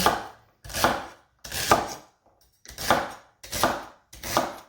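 Vegetables such as celery are chopped with a long-used kitchen knife on a board for chicken soup, six crisp close strikes in a loose steady rhythm with short silences between, no talking.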